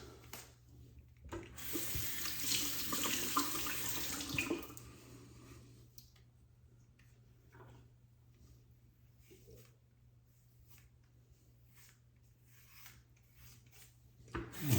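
A bathroom tap runs while a razor is rinsed under it during a head shave, a close rushing burst of about three seconds followed by quieter clicks and small handling sounds.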